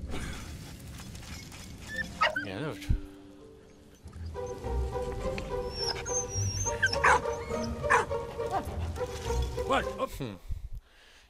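A dog barks and whimpers in the World War I video game Valiant Hearts, with short yips and whines over game music and effects, while someone talks over the game.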